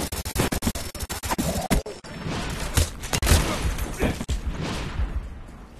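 Artillery strike in Call of Duty: Black Ops, a rapid run of sharp impacts and crashing blasts that give way to a rumbling barrage, loud and close, with little talk.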